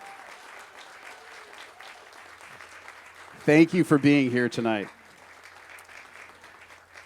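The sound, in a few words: audience applause at a construction celebration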